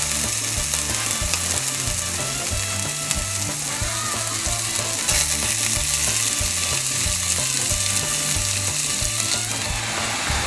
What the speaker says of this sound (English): while our pork is cooking away in the skillet here